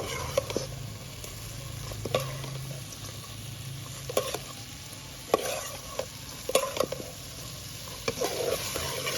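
Shrimp heads and ginger fry in oil for a shrimp rice soup, a continuous close sizzle broken by sharp scrapes and clicks of stirring, with no talk.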